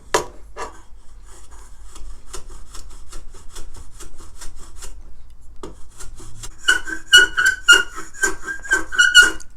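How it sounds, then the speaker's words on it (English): A block plane shaves wood with repeated short rasping strokes, then sharp high squeaks join each pass toward the end, close and fairly loud. "Sorry about the squeaking."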